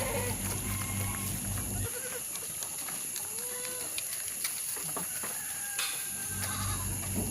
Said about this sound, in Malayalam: ഇതുപോലെയുള്ള ആടുകളെ നിങ്ങൾക്ക് വാങ്ങണമെങ്കിൽ ഷെമിയുമായിട്ട് ബന്ധപ്പെടുക